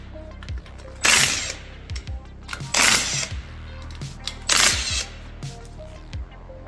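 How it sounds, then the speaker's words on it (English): Three loud bursts of an impact or ratchet tool loosening 16 mm bolts from a BMW 188L differential cover, each lasting about a second and spaced evenly, with lighter clanks of metal on metal between them. "So I'm going to unscrew it, of course."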